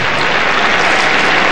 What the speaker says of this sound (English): Be a big burst of applause.